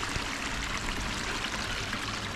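Woodland stream pouring over a series of small dams, forming little waterfalls; a constant, close, broadband rush and splash with no pauses.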